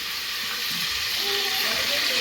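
Bay leaf dropped into hot oil in a home kitchen, giving a steady, loud sizzling hiss that holds for the whole moment with no voices over it.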